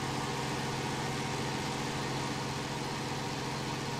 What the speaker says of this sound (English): Tractor still seems to be pulling it through pretty easily.